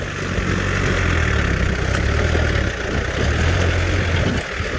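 A Yanmar EF514T tractor works a muddy, waterlogged rice paddy, its diesel engine a steady, close, unbroken drone with slight rises in load and no talk.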